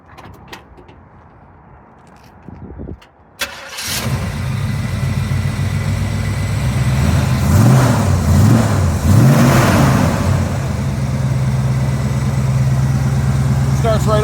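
A 1977 Chevrolet C10 pickup V8 with Flowmaster 40 series mufflers cranks briefly after a quiet lead-in, fires up loud and close into a deep throaty idle, and revs twice before settling.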